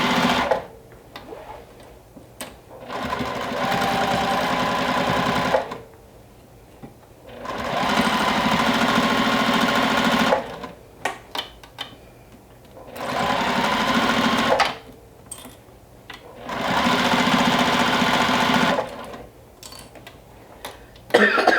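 A sewing machine stitches a large minky blanket with straight seams, running in steady bursts of a few seconds each, separated by short pauses and light handling noises.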